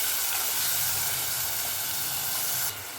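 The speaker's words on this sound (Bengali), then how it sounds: "এবার সব কিছুকে ভালোভাবে মিশিয়ে নিচ্ছি তেলের সাথে।" A paste of ground onion and green chillies fries in hot oil for a Bengali koi fish curry, giving a steady, even sizzling hiss throughout that drops slightly in level near the end.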